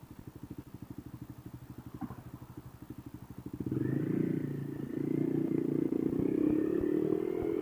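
A motorcycle idles in traffic with a rapid, even thumping, then is shifted into first gear and the engine note rises into a louder, fuller rumble that holds to the end.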